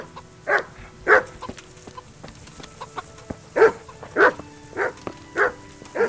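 Dogs bark in short, repeated bursts at a medieval village in the video game Kingdom Come: Deliverance, about ten loud barks spaced irregularly over a quiet background.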